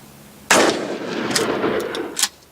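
A new shotgun fires a single sharp, loud blast at a skeet target outdoors, the report ringing out and decaying over about two seconds with a few faint clicks and knocks afterward.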